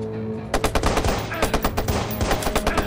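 Rapid assault rifle fire in Watch Dogs, a fast string of sharp, evenly spaced shots, loud and close, going on steadily for a couple of seconds after a brief lull.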